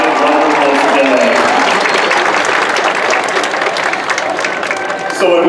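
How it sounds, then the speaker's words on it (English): Loud, sustained audience applause for a band and choir at a 2019 high school graduation, a dense wash of many hands clapping with a brief lift near the end. "can we please have a round of applause for our band and choir?"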